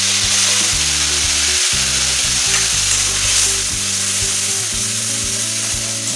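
Spice paste fries and is stirred in a pan with tempering for a cabbage and small prawn ghonto, making a loud, continuous close sizzle with stirring scrapes and a steady low hum underneath, with no voices.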